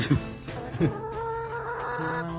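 Laying hens cluck a few times up close on a farm, with short bursts of fowl calls over a steady background.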